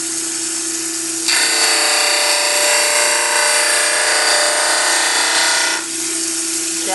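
A dental model trimmer grinds a lower plaster model, starting abruptly after a quiet moment and holding a loud, harsh, whirring grind for several seconds before cutting back to the motor's lighter hum.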